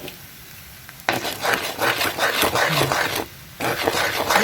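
Egg whites frying in a pan with rice, with a scraping stir and steady sizzle that starts abruptly after a quiet second, dips briefly, then resumes, close and fairly loud.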